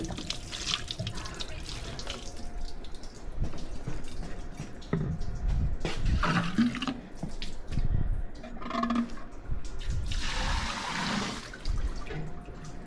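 Water gushes into a water tank through a float valve, a continuous splashing flow that surges and thins in waves, close and fairly loud, with no talking.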